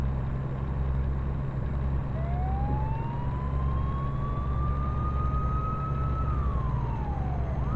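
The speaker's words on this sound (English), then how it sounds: "And this police car's still going for it." Police car siren in the American Truck Simulator video game, one long rising and falling wail heard over a steady low truck engine drone.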